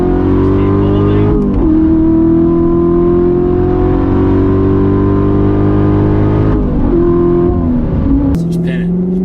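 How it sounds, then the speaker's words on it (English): A Corvette C7 Z06 with a 7-speed manual accelerates hard, its engine droning loud and steady inside the cabin, dipping briefly at each gear change before pulling again, with voices heard under the noise. "Just pin it. Shit through the gears. Just keep holding."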